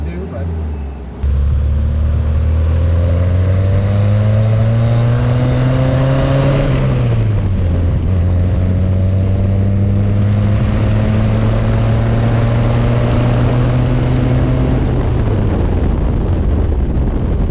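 1963 VW Karmann Ghia with a 1295cc flat-four engine on a test drive, loud and close with a droning exhaust note rising through a gear, a brief dip at the shift, then climbing again; voices occasionally under the engine.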